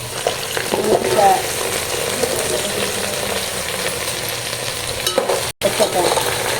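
Vegetables for Telangana-style pappu charu, including potato, ivy gourd, carrot and drumstick, fry loudly in a pan with a constant close sizzle, while a spoon scrapes and stirs in several bursts.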